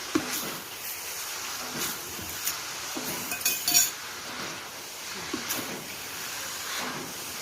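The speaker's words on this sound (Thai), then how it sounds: "ตักให้ถึงก้นกระทะเอาเลย" A metal spatula scrapes and clinks against the bottom of a wok while stirring a stir-fry, quiet repeated scrapes in an irregular rhythm over a steady hiss of cooking.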